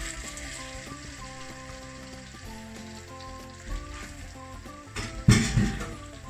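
Chopped onion hits melted butter in a pan, a soft steady sizzle joined by light utensil clinks, then a sharp louder crackle and clatter near the end; no one speaks.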